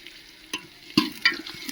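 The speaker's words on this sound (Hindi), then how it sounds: "मैंने तो तड़का लगा दिया अपना कढ़ी में।" Tadka of spices hissing in a frying pan as it goes into kadhi, soft steady sizzle broken by a few sharp crackles and stirring clinks, close and moderately loud.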